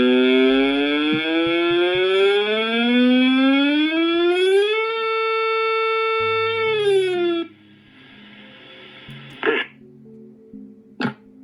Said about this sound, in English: That's the ugliest fucking siren I've ever heard.